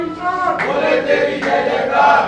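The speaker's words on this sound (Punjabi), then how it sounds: "ਭੋਲੇ ਦੀ ਜੈ ਜੈਕਾਰ ਕਰਦੇ ਹੋਏ ਸ਼ਰਧਾਲੂ" Shiva devotees at the ancient Sangla Shivala temple shouting Bhole di jai jaikaras, a crowd's massed voices rising in loud call waves, close and energetic.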